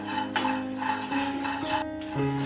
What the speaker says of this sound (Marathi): ही लसूण आहे ना ही पण मी परतून घेते जरा